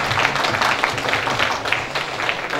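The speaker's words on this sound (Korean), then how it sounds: "큰 박수 다시 한번 부탁드립니다." An audience at a book launch event claps continuously throughout, a dense, even wash of applause at moderate distance with no voices over it.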